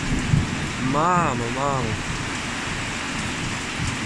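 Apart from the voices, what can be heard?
heavy rain and thunder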